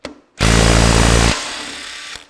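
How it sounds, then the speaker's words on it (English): A Makita DTW253 3/8-inch drive impact wrench gives one loud, close burst of rapid hammering lasting about a second, then winds down in a fading whir, removing a bolt on a Ferguson TEA20 tractor hydraulic lift cover. "Got this little 3/8 drive Makita's a beauty,"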